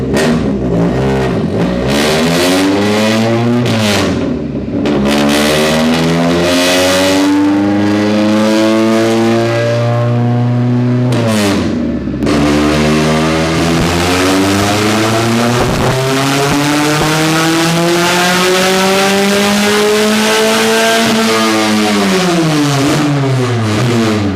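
An Acura Integra engine fitted with an electric TorqAmp turbo revs hard on a dyno, loud and close, its pitch climbing, dropping off and climbing again across several sweeping pulls.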